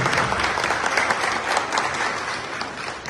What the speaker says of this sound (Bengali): আরেকবার করতালির মাধ্যমে ওনাকে অভিনন্দন জানাই।